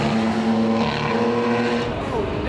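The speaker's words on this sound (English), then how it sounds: "Paul and friend are gonna be blasting by here in 2 race cars in a second" Two race cars blast past on a track, their loud engine howl rising and then falling away as they pass, with faint tire noise and voices nearby.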